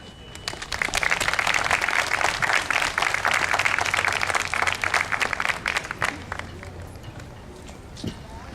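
Audience applause greets activist Michael Prysner at a Muslim Student Union campus event, loud, dense clapping that holds steady for several seconds, then thins and fades toward the end.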